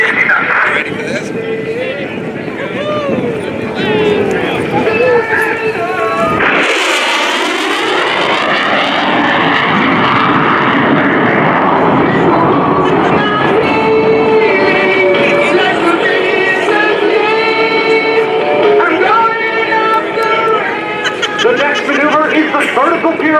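An F/A-18F Super Hornet jet roars loudly at an airshow open house as it pulls into a vertical pirouette, a sustained powerful engine rush with a sharp surge midway, under a commentator's voice.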